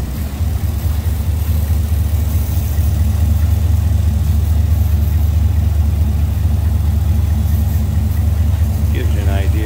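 A 1956 Ford Thunderbird engine idles with a steady low rumble, continuous and close, with a faint voice speaking near the end.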